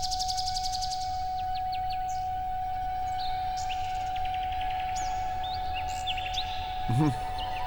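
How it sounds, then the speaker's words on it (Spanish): Recorded birdsong from the nightingale passage of Respighi's Pines of Rome chirps and trills in quick repeated calls over a steady sustained orchestral tone, moderately loud and continuous. "la grabación tiene un código específico, que es el código de los pájaros que tú puedes pedir a Ricordi"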